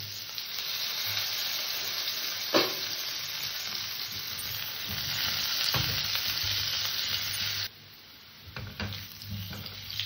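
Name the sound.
potatoes frying in a pan on low gas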